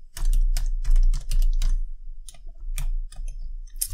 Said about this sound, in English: let me type this all out and then explain it